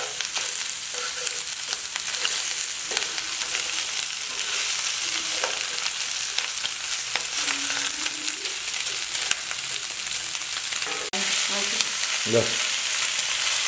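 Boiled pork frying in a pan, a dense, steady crackling sizzle that carries on throughout with faint stirring and a few low knocks near the end, close by.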